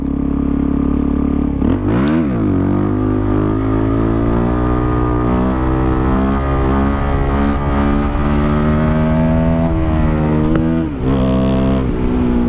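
A Suzuki DRZ400SM motorcycle engine held on the throttle during a long wheelie, a loud close buzzing drone that dips and rises in pitch around two seconds, then climbs and steadies before a brief wavering near the end.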